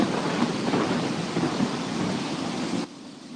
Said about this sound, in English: Oh man, storm's coming.